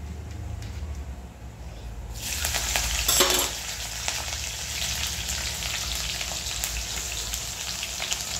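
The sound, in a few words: cumin seeds sizzling in hot oil with fried potato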